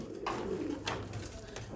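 A Red European Siraji pigeon gives a short, soft coo, with a few low murmured notes close by in a quiet coop in cold weather.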